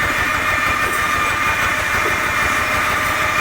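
A Kubota engine powering pig-farm fans runs with a steady, loud drone and low rhythmic throb, continuous and close by, with no voices.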